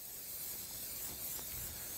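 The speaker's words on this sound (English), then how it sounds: "We're going to spray with a little of our pan coating." Faint, steady hiss of pan coating sprayed from a can onto a warm cooking pan, a continuous airy spray lasting about two seconds with no talk over it.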